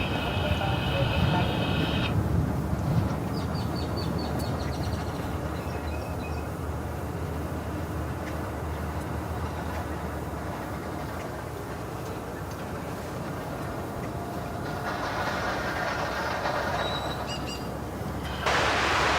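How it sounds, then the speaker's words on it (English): A Boeing 787 Dreamliner bound for Honolulu takes off at DFW Airport, its engines making a continuous broad roar that holds steady and swells louder near the end. "Dreamliner 2 poised for liftoff."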